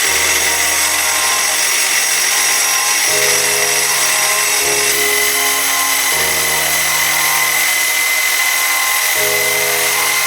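A power saw fitted with a guide cuts through steel plate for a custom rear bumper and hitch on a Toyota pickup, a loud, steady mechanical drone with shifting pitch steps, running continuously without speech.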